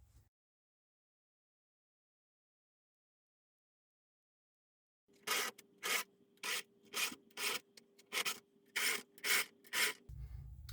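A hand file is drawn across a chainsaw chain's cutters in about nine distinct rasping strokes with a steady rhythm, close and clear after a long silence.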